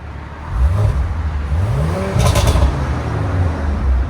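A 2019 Audi RS5 with a 2.9L twin turbo V6 and full exhaust system idles with its exhaust valves closed, a loud, steady low rumble with a couple of light throttle blips rising and falling.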